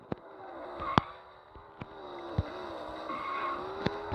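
Engine hum of a car driven around a city in the Extreme Car Driving video game, a faint steady drone with a few soft clicks and bumps scattered throughout.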